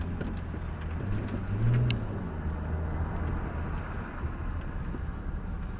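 Cars pass in heavy traffic as a continuous, fairly close road rumble with dense low engine and tire noise that swells slightly midway, with no voices.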